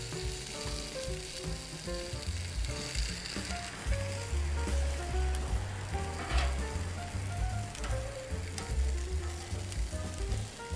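Vegetables and asparagus sizzle and fry steadily on a hot Camp Chef griddle, a dense continuous crackle close by with occasional scraping and stirring, no voices.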